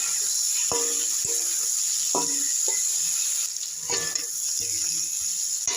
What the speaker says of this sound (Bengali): জিরা গুঁড়ো দিয়ে আরও কিছুক্ষণ আমি কষিয়ে নেব।